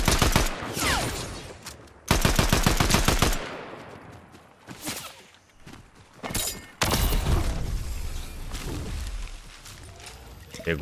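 Bursts of gunfire in the video game Fortnite, rapid automatic volleys and sharp shots loud and close, separated by quieter gaps, with game noise between them.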